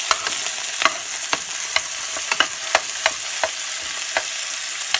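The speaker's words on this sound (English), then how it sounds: "so I'm going to be adding my onion." Onion sizzles as it fries in a pan with garlic and ginger for a Hyderabadi chicken curry sauce, a steady hiss broken by sharp clicks and scrapes of stirring, with no voices.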